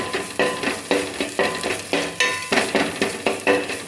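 Shallots and green chillies sauté in hot oil in a pan, a steady sizzle broken by rhythmic scraping strokes of a spoon about every half second, close and fairly loud, with no voices.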